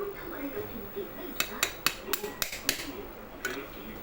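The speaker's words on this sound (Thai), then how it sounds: "ลองใช้ไขควงตัวเล็กนะครับ ตอกเสริมเข้าไปอีกนิดนึงนะครับ" A series of small sharp metallic taps, about eight quick hits close by, as a part is knocked into an electric fan with a small screwdriver over a quiet background.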